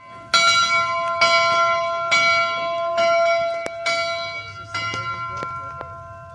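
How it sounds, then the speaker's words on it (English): Several loud, ringing bell strikes at a train museum, each hit decaying with a bright sustained tone, spaced about a second apart with a few lighter taps near the end. "There's a bell over there."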